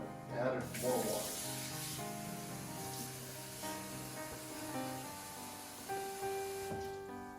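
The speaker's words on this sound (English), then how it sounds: "Since it's not covering, I'm gonna add more water." Kitchen tap runs into a pot while beef birria is being cooked, water splashing and rising in pitch as it fills, mixed with clatter and soft background music.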